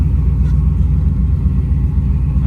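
A lifted Ram 1500 pickup with a Hemi V8 making 922 rwhp idles with a loud, deep, lumpy rumble close by, steady and throbbing with no one talking.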